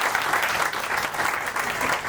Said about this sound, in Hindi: प्लीज उनके लिए जोरदार तालियां बजाएं।